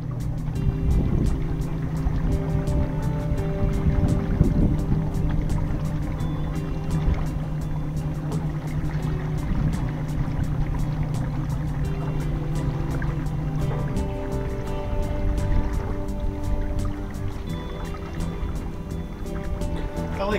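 A boat driven by a 10 kW 48-volt electric motor cruises slowly at about 1.5 knots around a large houseboat, giving a steady low hum with water lapping against the hull throughout, and no talking.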